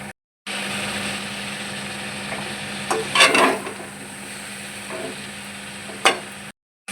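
Mixed vegetables sautéing with spices and salt in a pan for a vegetarian navratan dish: a steady, moderate sizzle with a few scraping stirs of the spatula, close, no talking, cutting off abruptly at both ends.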